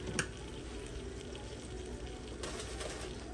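Sizzling in a skillet as flour is stirred into melted sausage fat for gravy, making a steady close frying hiss with faint scraping throughout and no talk.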